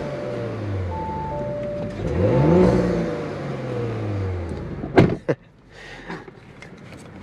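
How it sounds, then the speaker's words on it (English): A 2022 Audi S4 engine revs up, rising then falling in pitch, followed by a couple of sharp mechanical thumps and a quieter idle. "It's a good exhaust note."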